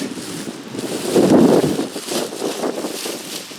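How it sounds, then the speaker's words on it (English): Gusty wind buffets an outdoor microphone as a Wheel Horse 520H tractor seat is set up for a closer look, a steady low roar swelling loudest mid-clip before easing back, with no voices. "It's breezy today, which may be a problem with the sound of our video"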